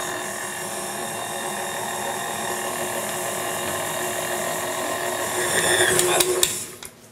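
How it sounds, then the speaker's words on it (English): Electric mixer whirs steadily through cookie dough in a mixing bowl for chocolate mint pinwheels, a loud continuous grinding drone that rattles and sputters briefly before stopping at the end. "we're going to mix that up until it's a nice thick cookie dough."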